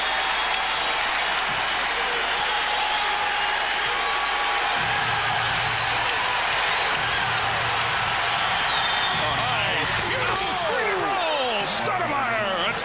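Dense, loud crowd roar fills a basketball arena during a 2005 playoff game between the Suns and Mavericks, with sneaker squeaks near the end and steady broadband cheering throughout.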